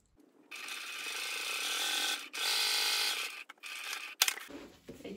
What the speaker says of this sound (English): Now I like to backstitch, and that's enough to secure it.